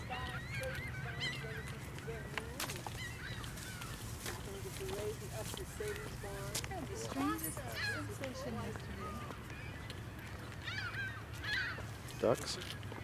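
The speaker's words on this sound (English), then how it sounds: "Ducks." Ducks at a lakeside, giving repeated honking calls scattered across the stretch at moderate distance, over a low steady background hum, with a few louder calls near the end.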